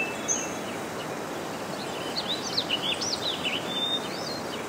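A parrot gives a run of wavering, whistled chirps over steady outdoor hiss, fairly faint and intermittent throughout.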